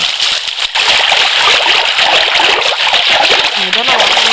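Water splashes and churns in a continuous, loud rush, with voices faintly mixed in beneath the spattering flow.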